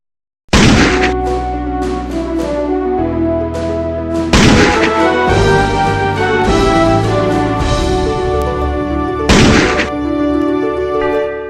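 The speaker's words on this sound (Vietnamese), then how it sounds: "khánh thành tượng đài cố Tổng thống Ngô Đình Diệm với nghi lễ 21 tiếng súng đại bác." Cannons fire a 21-gun salute at the inauguration of a monument to late President Ngo Dinh Diem. Three heavy booms about four to five seconds apart ring over loud ceremonial music.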